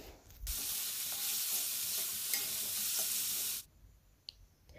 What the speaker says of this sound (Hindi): दो मीडियम साइज का प्याज इस तरीके से आप सारे मिक्स करेंगे और एक साथ में भी फ्राई करेंगे